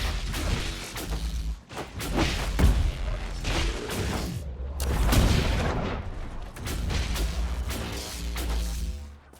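Energy Barrage spell in Dragon Age Inquisition, a rapid series of loud magical blasts and thuds arriving in several bursts with whooshing tails, no speech.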